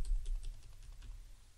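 Shift keys on a computer keyboard pressed repeatedly while dragging a puzzle piece in a teaching activity, giving a string of soft, close clicks over a low background hum.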